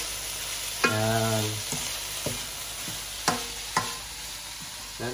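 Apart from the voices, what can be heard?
sautéing mung beans in a pan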